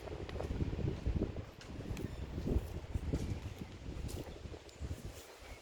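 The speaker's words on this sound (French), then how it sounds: "Vous pouvez entendre le souffle du vent." Wind gusts over an open wheat field, rumbling and buffeting the microphone with a soft rustle beneath, rising and falling irregularly.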